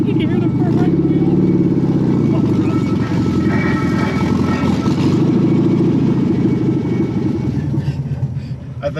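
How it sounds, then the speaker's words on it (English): Rumbling engine and road noise inside a moving 1973 VW Super Beetle with a noisy front wheel, loud and steady throughout, with people talking over it. "You can hear the front wheel."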